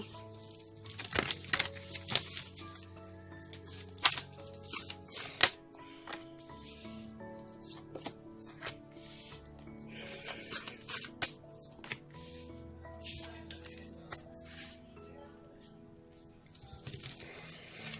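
Cards are shuffled and riffled in quick crackling bursts, with soft slaps and pauses between, over quiet background music.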